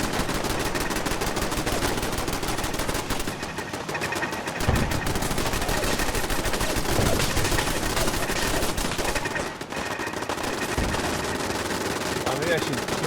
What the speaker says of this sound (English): Something's being shot.